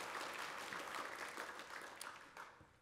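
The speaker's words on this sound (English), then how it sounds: "Let's give her another big round of applause." A banquet crowd at a 4-H awards event applauds an honored project leader, steady clapping from many hands that gradually thins and tapers off, with no talking over it.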